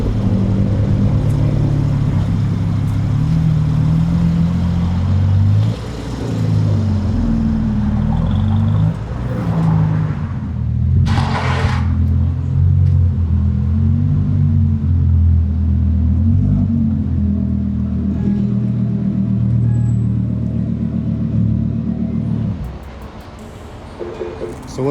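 A widebody Rolls Royce Cullinan, just repaired, runs outdoors with a steady low engine rumble throughout, rising briefly in places, and fades near the end.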